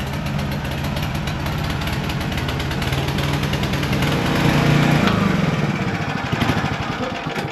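A small gasoline engine on a ranch robot runs steadily at close range with a rough, buzzing, lawnmower-like drone, revving up slightly near the middle and then settling back.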